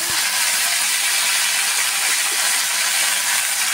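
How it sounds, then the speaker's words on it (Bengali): Panch phoron, a five-spice mix, sizzles in hot oil as a tempering, a dense, loud, steady hiss close by that fills the whole moment without pause or speech. "এখানে 5 ফোড়ন সম্বার দিলাম"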